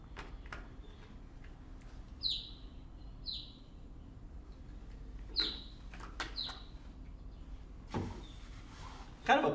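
Recorded calls of an Evening Grosbeak, type 1, the western eruptive type. Short, high, clear call notes come singly or in pairs, spaced a second or more apart over a faint background hiss, with a few soft clicks.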